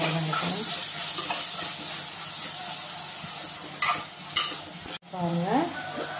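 Tomatoes sautéing in a pan for mushroom biryani, a steady sizzle and hiss of frying with a few stirring scrapes and clinks against the pan.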